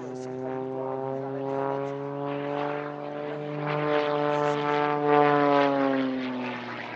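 A propeller aerobatic plane of the Équipe de Voltige drones overhead at an air display, its harmonic engine note shifting in pitch and swelling louder as it loops and rolls, with a voice talking faintly beneath.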